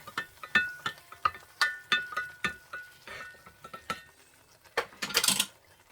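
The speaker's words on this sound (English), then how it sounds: "Continue to stir" Spoon scraping and knocking against a pot while stirring cornbread dressing made with Ritz crackers, a quick irregular series of close metallic clinks and scrapes ending in a brief louder rattle.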